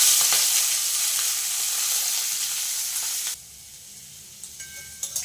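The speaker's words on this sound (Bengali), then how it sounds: "এখন কড়াইতে আবার তেল দিলাম, দিয়ে এখন এগুলো দিয়ে একটু ভেজে নেব।" Ingredients frying in hot oil in a wok while chow mein is being made, a loud steady sizzle that drops abruptly to a quieter crackle partway through, with a few light scrapes of stirring near the end.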